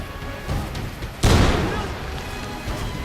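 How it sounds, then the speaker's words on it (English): A frag grenade explodes in a first-person PC shooter game as one sudden, loud, deep boom that fades into a rumbling tail. Quieter game noise comes before it, and someone talks over the scene. "That was a frag."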